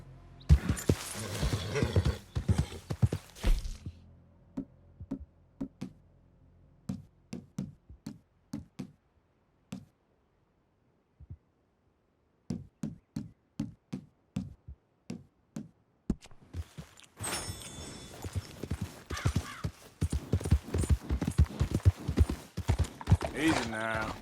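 A horse's hooves clip-clop in Red Dead Redemption 2, a run of sharp rhythmic hoof strikes that pauses briefly, then resumes and thickens with other noise toward the end.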